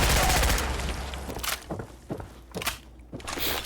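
Rapid bursts of PPSh submachine gun fire in Fallout 4, with broad loud blasts at the start, then scattered sharp reports and thuds amid game ambience.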